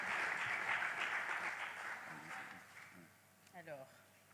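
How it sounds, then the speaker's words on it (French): Audience applause at a cultural awards ceremony in Brussels, a broad wash of clapping that fades over several seconds before a voice cuts in near the end. "Sous vos applaudissements."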